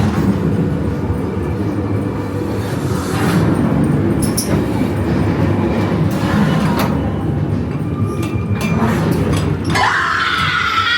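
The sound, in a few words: ghost train amusement ride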